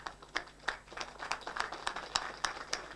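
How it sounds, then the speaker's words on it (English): A sparse patter of audience claps for a guest of honor at a gender equality forum, with distinct individual hand claps spaced irregularly, fairly faint and thin rather than a full roar. "let's rise up and give a huge round of applause to our guest of honor today"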